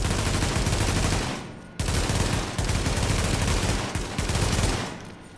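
Rapid automatic fire from a G36 carbine rifle in The Division, loud continuous bursts broken by brief pauses, harsh and close with heavy recoil.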